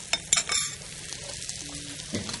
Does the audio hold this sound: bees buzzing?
no